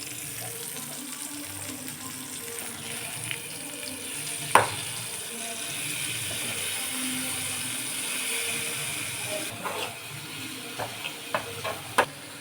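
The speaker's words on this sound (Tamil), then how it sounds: "இப்போ நல்லா வதக்கலாம்" Tomatoes sauté in a pan for a spicy thakkali thokku: a steady soft sizzle runs throughout, broken by occasional scraping and clinks of a spoon stirring against the pan.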